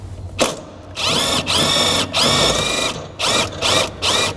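Impact or power driver running down the bushing bolts on a GMT400 truck front end, several loud whirring bursts with short pauses, each spin-up rising in pitch before cutting off.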